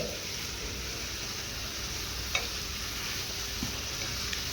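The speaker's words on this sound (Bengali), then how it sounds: "হালকা হাতে এই বীজগুলো কিন্তু ওই মশলার সঙ্গে একটু মিশিয়ে নিতে হবে" Fried jackfruit seeds are gently stirred into a sizzling spice masala, giving a steady, moderate frying hiss with a few faint scrapes and taps from the stirring.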